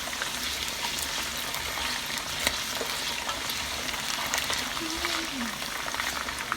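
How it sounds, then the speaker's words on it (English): Potatoes for beef afritada sauté in a hot pan with a steady broadband sizzle and crackle from start to end, brief stirring scrapes and faint low voice-like murmurs in the background. "So I'm going to saute them just a little"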